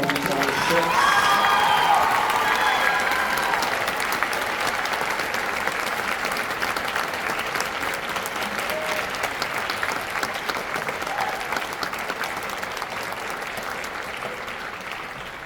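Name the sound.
applause for the class of 2026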